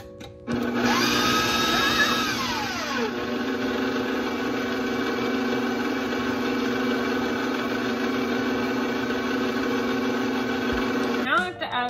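An electric mixer runs steadily at a constant pitch, whirring through thick wet cookie batter for about ten seconds. It starts abruptly, holds an even drone, then winds down and restarts briefly near the end.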